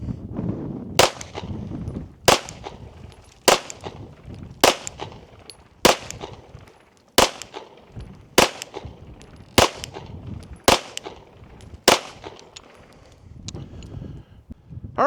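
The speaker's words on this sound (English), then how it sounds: "So we got 10 rounds loaded up. Let's see if we can keep all our shots in the A zone." A Rost Martin RM1C pistol fitted with night sights fires ten rounds at a target, sharp loud shots spaced roughly a second apart, each ringing briefly before the next.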